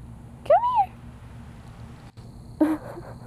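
A cat gives a clear rising-falling meow close by, then a second shorter meow follows a couple of seconds later over a quiet room hum.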